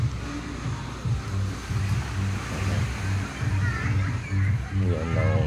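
Waves wash in repeated surges against a windy shoreline at Casapsapan Beach, Casiguran, loud and close, with a faint voice briefly in the background.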